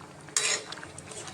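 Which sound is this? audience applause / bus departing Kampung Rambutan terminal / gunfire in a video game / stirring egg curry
stirring egg curry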